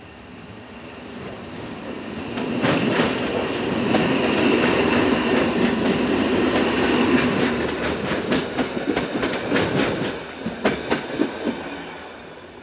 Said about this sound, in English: Class 566 number 225 heads for Solothurn.